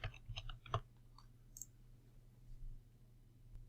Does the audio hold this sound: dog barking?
no